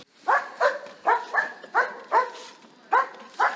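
A drug detection service dog barks in a quick series of about nine sharp, close barks, spaced fairly evenly with brief pauses, with no talking.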